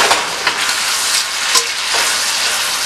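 Garlic frying dark in a pan for Guyana-style curry chicken, a steady broadband sizzle with a few soft stirring clinks and scrapes, close and fairly loud, with no talking.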